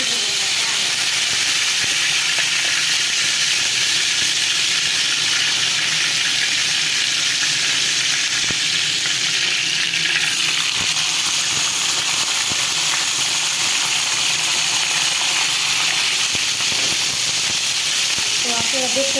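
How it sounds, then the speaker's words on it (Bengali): Chicken nuggets and french fries fry in hot oil, a loud, dense sizzle and hiss that holds steady and close for the whole stretch without letting up. "সেই নাগেটসটা ভেজে দিব"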